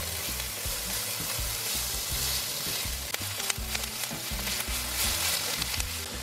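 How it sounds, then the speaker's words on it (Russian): Onions sizzle and crackle steadily in hot oil in a pan, with occasional stirring scrapes and pops throughout. "Добавляю в сковородку лук. Обжарю его до легкого золотистого цвета."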